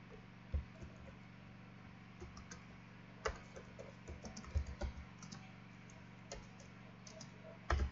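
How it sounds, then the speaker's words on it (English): Sparse, faint keystrokes on a computer keyboard as a name is typed, scattered clicks over a steady low hum with no talking. "type your name here."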